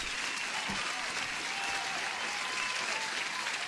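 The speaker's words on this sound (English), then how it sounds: "I must give an applause for J-Ho." Dense, continuous applause from a crowd, steady and evenly sustained throughout, moderately quiet and slightly distant, with no break in the clapping.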